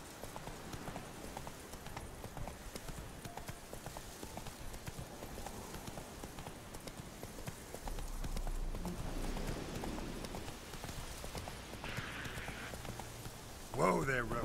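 A horse's hooves clip-clop and gallop steadily in The Witcher 3: Wild Hunt, a continuous quick rhythm mixed with game ambience, while someone talks over it.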